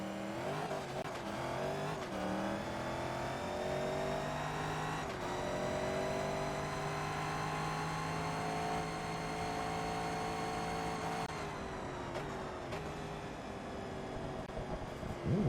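A Corvette race car in Forza Motorsport 2's Corvette Touring Cup howls with a loud, steady engine drone, its pitch climbing and dropping at gear shifts near 2, 5 and 11 seconds, with no voices.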